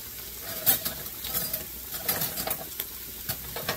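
Beans in a pot being stirred as they start to boil, soft scraping and bubbling patter in quick irregular bursts, close and fairly faint.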